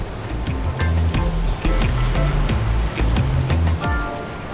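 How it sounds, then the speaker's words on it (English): Ocean waves roll onto the rocky coast at Port Aransas, Texas, in a continuous, fairly loud wash. Low, steady background music runs underneath. "sit along the rocks there and watch the waves roll in the Texas sunshine"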